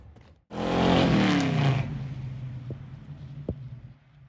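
Chevrolet Monte Carlo with an LS engine firing up: a sudden loud start and rev, then settling to a rough, steady idle close by with a couple of sharp pops.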